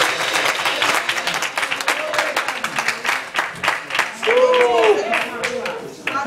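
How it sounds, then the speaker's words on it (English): A youth church congregation claps along during praise in a steady rhythmic beat, clear sharp hand claps with voices singing and calling out over them, loudest in the middle. "Clap your hands, give God praise."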